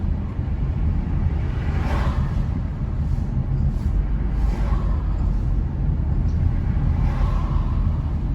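Car driving along East Street in Old Harbour, Jamaica, early morning, heard from inside as a steady, loud low engine and road rumble throughout, with faint passing swells in the background.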